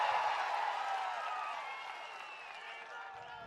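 A large crowd at a political rally in Andhra Pradesh bursts into sustained applause and cheering, a dense roar of clapping that slowly tapers off, with voices mixed in.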